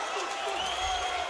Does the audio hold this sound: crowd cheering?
yes